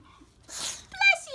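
A Pekingese dog sneezes in a short sharp burst, close to the microphone, with a person's voice speaking nearby.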